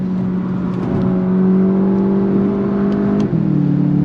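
A 2025 Volkswagen Jetta GLI engine revving hard under acceleration, a loud steady droning hum climbing in pitch, then a brief dip as it shifts gear near the end.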